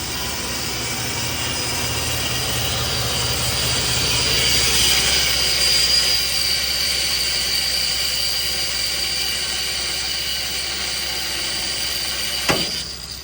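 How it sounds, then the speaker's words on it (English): Steel U-bolts on a truck spring setup being cut in a shop, a loud steady grinding hiss with a high whine that runs throughout, ending with a sharp snap near the end. "So Wyatt's gonna cut those U-bolts."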